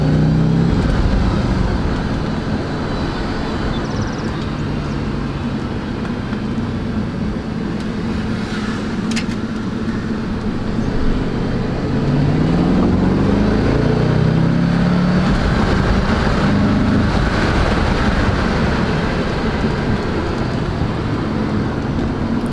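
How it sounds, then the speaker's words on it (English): Audi RS4 Avant B7 estate driven around a parking lot, a steady, loud engine drone heard from inside, with low rumble and gentle rises and falls in pitch as the car pulls and eases off, without talk. "let's just see what this car sounds like when we're driving"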